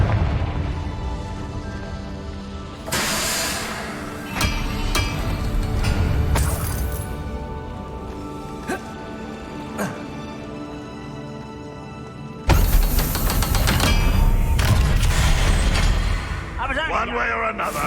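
A Confringo blasting curse erupting in the video game Hogwarts Legacy, a sudden loud explosive burst with crackling debris that follows earlier booming spell impacts, with character speech heard in the scene.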